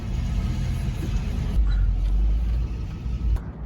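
A 1976 Chevy K10 truck with a junkyard LS engine swap reverses with a steady low engine rumble, close by and fairly loud, with a brief higher whine partway through.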